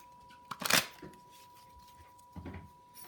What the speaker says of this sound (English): I'm just going to shuffle a few more times